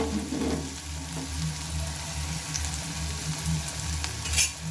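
Finely chopped onions fry in a pan for a cauliflower dish, giving a steady low sizzle with soft stirring scrapes throughout, close and even, with no talking.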